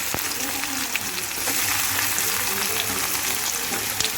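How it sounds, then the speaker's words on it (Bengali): Steady, crackling sizzle of chopped onions frying in hot oil, continuous and close, with no talking over it. "এবারে আমি এর মধ্যে কেটে রাখা পেঁয়াজ কুচিগুলো দিয়ে দেবো"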